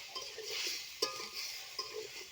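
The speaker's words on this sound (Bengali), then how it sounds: "এবার নেড়েচেড়ে আমি ঢেকে দেব" A cauliflower and potato curry stirred in a pot, soft scraping and wet shuffling with one sharp clink of the spoon against the pot, quiet and close.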